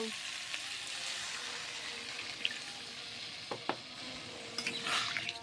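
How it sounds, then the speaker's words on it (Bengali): Potatoes coated in spices fry in a pan as a little water goes in, giving a steady, close sizzle with a few sharp clicks and spits toward the end. "এখন একটু পানি দিয়ে দেব।"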